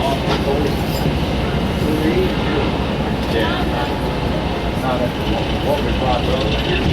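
Train passing near a terminal: a steady, dense rumble with rolling clatter throughout, loud and close, with people talking faintly over it.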